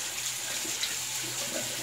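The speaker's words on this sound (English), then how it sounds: "I'm gonna warm the blade up, so I'm gonna get the warm water running here." Warm water runs steadily from a sink tap in a bathroom before a shave, a continuous close hiss and splash with no voices.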